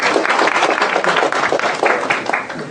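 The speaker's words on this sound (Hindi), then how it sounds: "इतना सवाल पूछना ही एक ताली लेने के लिए।" A seminar audience in a hall bursts into dense, lively clapping that holds steady for a few seconds before easing off slightly.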